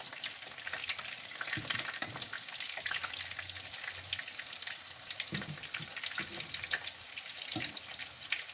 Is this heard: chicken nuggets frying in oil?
yes